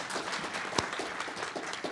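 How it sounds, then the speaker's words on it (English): Audience applause for a female panel moderator at a green construction and retrofit panel event: steady dense clapping from a room full of people throughout, moderately loud with no talk. "Appreciate a round of applause for her also."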